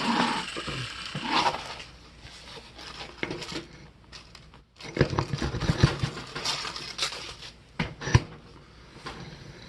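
Ratcheting and mechanical clicking while a bigger front wheel is fitted onto a Murray mower, with bursts of clatter and rattling metal parts close up, a short pause midway, then more clicks and knocks; no talking.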